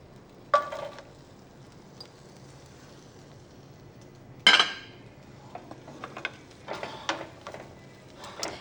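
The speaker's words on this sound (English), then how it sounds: "to that pan, we will toss in some mushrooms" Mushrooms land in a hot pan with a sharp clatter and brief sizzle, followed later by scattered clinks and light stirring knocks of a utensil in a home cooking setting.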